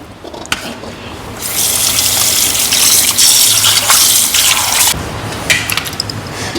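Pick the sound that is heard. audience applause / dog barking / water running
water running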